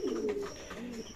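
A pigeon coos close by, one low throaty rolling call that swells and then trails off across about a second, with no other sounds around it.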